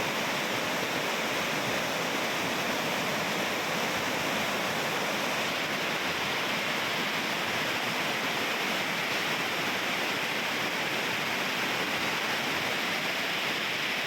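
Water pours steadily over the overflow of Jayyaram Pedda Cheruvu lake in a constant, dense rushing roar that stays even throughout, with no voices.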